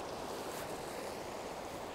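Sea waves wash and churn in a steady, broad roar of moving water that holds at an even level throughout, with no voices heard.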